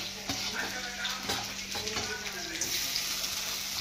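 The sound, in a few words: tomatoes added to frying pan while making poha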